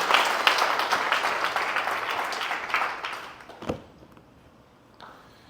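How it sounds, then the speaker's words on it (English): Church congregation clapping for Jesus during a sermon, a dense wash of hand claps that builds and then thins out, ending in a few scattered claps. "But give Jesus a hand clap."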